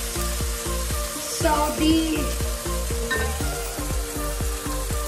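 Tomato sautéing in a pan alongside pear squash (sayote), a steady close sizzle with stirring under strong repeated tonal background music, one brief word spoken.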